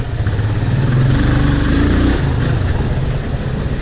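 A motorcycle engine hums steadily at close range as it rides along a road in Bhaktapur, a constant low rumble with slight swells in revs.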